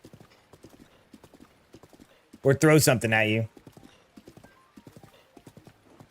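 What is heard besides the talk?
horse hooves clip-clopping in a Zelda video game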